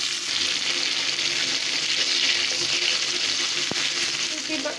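Dried fish frying in a wok, giving a loud, continuous close-up sizzle that holds steady throughout, with one brief faint tap.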